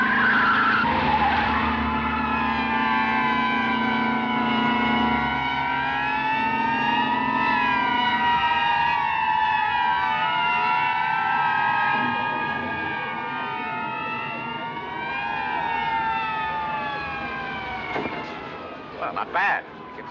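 Several police car sirens wail and overlap in a long rising-and-falling chorus, with tires skidding and car engines beneath, ending in a brief screech.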